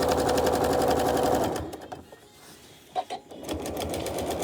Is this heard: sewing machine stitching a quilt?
yes